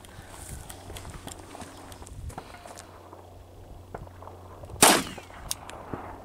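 A single sharp shot from a 9mm Glock pistol firing a Federal Premium Hydra-Shok jacketed hollow point into clay, a loud, brief crack near the end standing out above quiet outdoor background.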